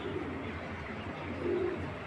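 Racer pigeons coo softly in low, throaty murmurs at a large pigeon farm, two brief coos rising over a steady indoor background hum.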